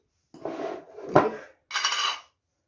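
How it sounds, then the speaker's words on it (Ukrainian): A fork whisks eggs in a bowl, three short scraping, clinking bursts in quick succession, close and quiet, with silence between and no speech. "Збиваю вилочкою яйця, трошечки посолю."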